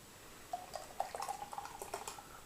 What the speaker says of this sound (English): Let me just pour my drink.